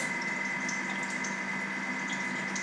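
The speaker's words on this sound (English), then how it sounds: "I'm going to slowly drizzle in the water, as you would a mayonnaise" Thermomix running at speed 3, mixing a homemade hand lotion as water is drizzled slowly into it; a steady, close whirring motor hum with a faint liquid churn, continuous and even, with no voices.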